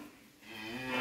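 A Pegon cow, one of the cattle being readied for the Eid sacrifice, gives a single drawn-out low moo lasting about a second, close and fairly loud, rising slightly in strength toward the end.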